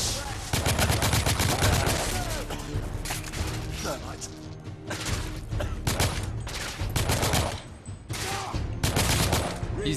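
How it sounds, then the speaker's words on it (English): A Tommy gun rattles in dense automatic bursts during a firefight in the video game The Order: 1886, loud and continuous, with short pauses between volleys and other impacts mixed in. "Tommy gun time."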